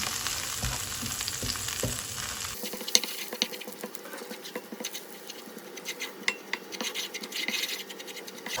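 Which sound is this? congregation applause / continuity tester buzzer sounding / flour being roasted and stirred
flour being roasted and stirred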